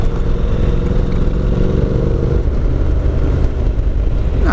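A Honda NC750X motorcycle on a road, its engine holding a steady, loud drone with rushing wind noise throughout and no change in pace.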